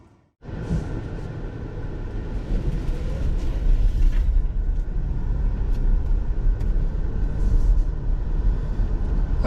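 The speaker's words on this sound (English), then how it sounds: "we are out here driving this EV6 Wind all-wheel drive" A 2022 Kia EV6 Wind all-wheel-drive electric car on the move, heard as a steady low road and tyre rumble with wind noise from inside the cabin, continuous and fairly loud throughout.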